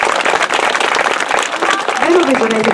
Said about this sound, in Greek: αυτά τα πανέμορφα καλικατζαράκια αξίζουν ένα πολύ μεγάλο χειροκρότημα